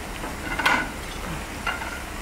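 Potato slices frying in oil in a home kitchen, a quiet steady sizzle with two brief brighter spatters or stirring touches.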